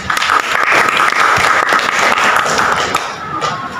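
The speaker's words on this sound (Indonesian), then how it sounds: "Berikan aplaus buat Ima." Applause from a classroom of students, dense steady clapping held close and loud for nearly four seconds, thinning slightly toward the end.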